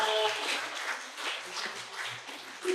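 An audience claps at a memorial ceremony for the 59th anniversary of President Syngman Rhee's death, held in a Los Angeles banquet hall. The applause is a steady patter of hands mixed with a speaking voice.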